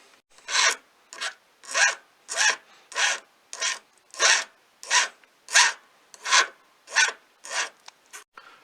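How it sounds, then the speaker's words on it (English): A hand file rasps back and forth across the edge of a small metal Viking-style pendant, about a dozen evenly spaced strokes close to the mic, with no one talking. "After that I will take a file and just round up all the parts so they are also nice to touch"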